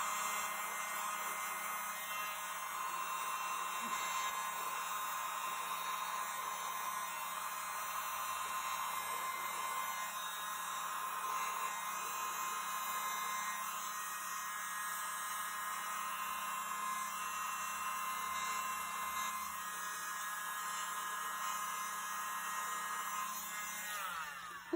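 Hair dryer blowing across wet acrylic pour paint, a steady loud airy whir running unbroken for about twenty-five seconds at close range with no talking.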